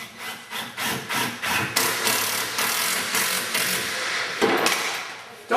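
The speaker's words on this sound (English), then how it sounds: "And then I'll run my screw in." A screw is driven into a wooden cabinet face frame behind a hinge, giving a loud, close, continuous grinding whir with rhythmic pulses, rising briefly near the end, with no talking.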